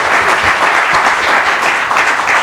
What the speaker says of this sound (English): Please give a big round of applause to the panel members.